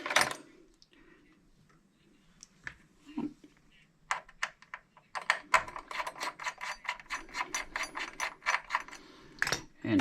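Screws being loosened on a PS5 CPU bracket, a run of quick metallic ratcheting clicks in close succession at close range, with a few separate taps and clinks before them.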